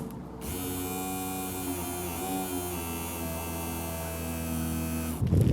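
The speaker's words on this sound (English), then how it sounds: "first thing I want to see if this pump is pumping fuel" The electric fuel pump of a 1976 Porsche 914 hums steadily at close range, a constant droning buzz that holds for about five seconds before cutting off, with no talking.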